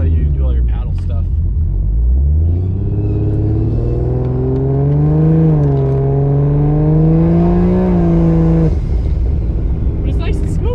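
A 900HP Barra-engined GT350 pulls away and cruises, its deep engine rumble rising and holding a steady tone for several seconds before easing off, loud and close from inside the car, with some talk early in the clip.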